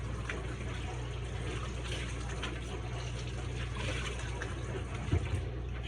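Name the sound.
washing hands under running tap water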